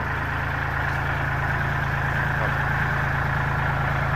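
A tractor engine just started in a repair setting, idling with a steady, close, continuous low rumble and even mechanical chug throughout, with no talking.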